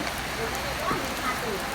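Steady rain falls outdoors in a close, even patter that holds without a break, with a faint voice underneath.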